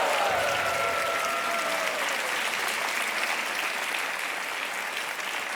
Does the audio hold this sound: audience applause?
yes